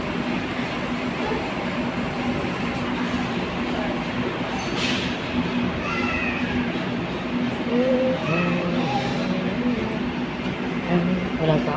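An LRT light-rail train running in Manila, a loud steady rumble of wheels and motors with faint squeals and tones, as a person talks over the constant noise throughout.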